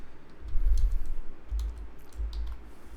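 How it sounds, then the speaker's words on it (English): A computer keyboard is typed on while entering an SQL statement, with scattered soft key clicks over a low rumbling background hum, close and faint. "let me type"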